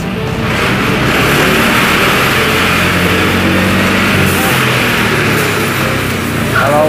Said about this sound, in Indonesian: kita panteng gasnya kayak gini